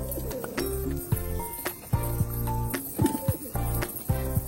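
Pigeons coo repeatedly at close range while feeding on corn, with soft, rolling, low calls overlapping in irregular bursts.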